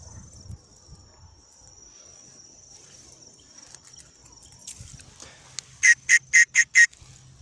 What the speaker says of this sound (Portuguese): Deixa eu apitar aqui para eles bem baixinho.